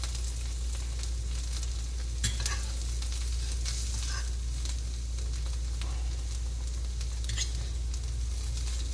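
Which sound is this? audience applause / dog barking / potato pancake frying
potato pancake frying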